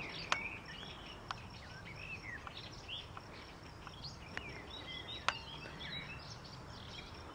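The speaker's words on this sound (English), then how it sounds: "It's like really quiet, you can hear the birds." Birds chirping and calling in a quiet open field on a hot day, with faint scattered tweets over low insect hiss and a few sharp clicks, all soft and distant.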